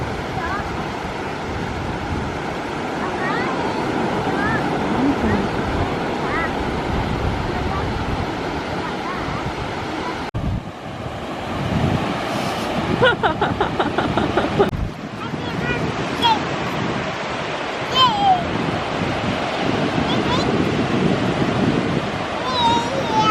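Ocean surf rolls and breaks steadily at an Australian beach, with wind buffeting the microphone throughout and people talking nearby over the continuous wash of the waves.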